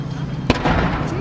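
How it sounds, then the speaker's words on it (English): A single boom from the Edinburgh Castle cannon, one sudden sharp report heard from a distance, followed by a short rumbling tail over street ambience. "That was the castle cannon."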